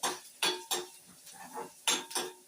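A spatula scrapes and knocks against a pan while a spiced potato-filling base with turmeric is stirred, several sharp clinking strokes in an uneven rhythm, fairly quiet and close with no voices.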